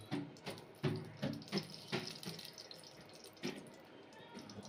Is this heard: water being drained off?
yes